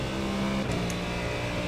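The V8 engine of a Ford Mustang GT3 race car in the iRacing video game howls at high revs, a steady loud roar with a brief shift in pitch partway through.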